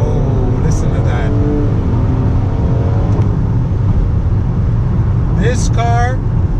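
A 2017 Nissan Maxima, eighth generation, makes a steady engine drone with a short rev near the end, close and fairly loud, while a voice briefly talks over it.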